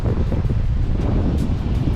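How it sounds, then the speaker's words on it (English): Strong wind buffets the microphone outdoors at a highway rest area during a trucking stop, a loud continuous low roar with gusty surges and no voices. "it is very, very windy outside"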